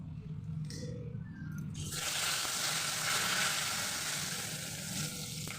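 Bay leaf and panch phoron hitting hot oil in a pan, a sudden loud, steady sizzle that swells and holds for several seconds after a quieter moment of faint kitchen clatter.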